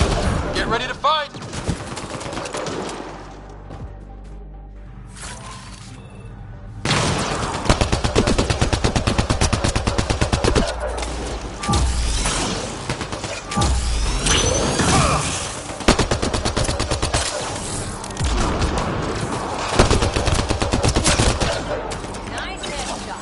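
Dense gunfire from the shooter game Mass Effect Andromeda, with sparse shots and mechanical clicks at first, then sustained rapid automatic bursts and booms that keep rattling loud and close, under occasional talk.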